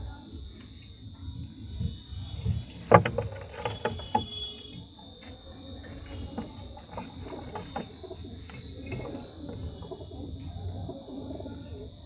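Madrasi pigeons in a home loft at night give soft, low, repeated coos, moderately close, with a few sharper clatters and shuffling noises mixed in and a steady high electrical whine running through.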